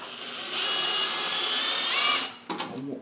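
A hand drill spins a Lisle 15000 cylinder hone inside the bore of a 12 HP Briggs engine, a steady loud whine lasting about two seconds, then cutting off into a few clattering knocks.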